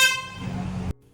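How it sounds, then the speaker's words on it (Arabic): A golf cart horn blasts loud and close in one short, bright, buzzing honk that cuts off abruptly, leaving faint low background noise. "عايز اسمعكوا صوت الكلاكس، صوته عالي جدا جدا"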